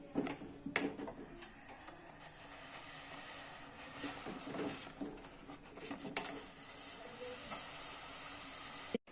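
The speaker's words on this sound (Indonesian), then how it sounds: "Aduk terus sampai mengental dan meletup-letup ya." Sweet rice flour porridge (bubur saren) thickening in a pot as it is stirred, with irregular close-up pops and sputters of bursting bubbles over a low, steady hiss.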